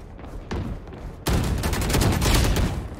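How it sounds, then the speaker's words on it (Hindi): Automatic fire from a Phantom rifle in the Valorant video game: a softer opening shot, then a loud, sustained rapid-fire burst of shots that runs to the end. "भाई इस बंदूक का साउंड मेरे को पसंद आ गया"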